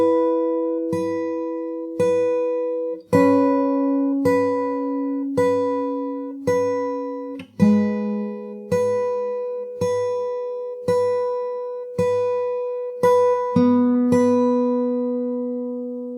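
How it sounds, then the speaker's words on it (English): Fingerstyle guitar picks a steady, repeating pattern of plucked notes over ringing bass tones, playing a song from the beginning with even, evenly spaced attacks and occasional chord changes, solo and close. "So if I play the whole thing from the start,"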